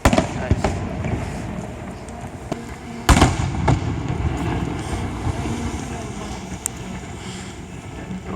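Canada Day fireworks going off in the open air, with a few sharp bursts standing out above a steady rumble of wind and crowd noise, and people's voices faintly mixed into the background.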